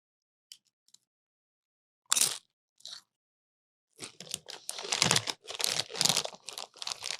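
Close crunching of Doritos tortilla chips, a couple of brief bites followed by a longer run of loud, crackly chewing bursts in an otherwise quiet room.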